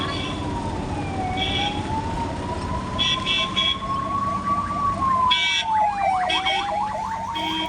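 An ambulance siren wails with a rising and falling tone as it passes along a road in rural Palakkad, loud and near, with short horn toots and traffic rumble underneath.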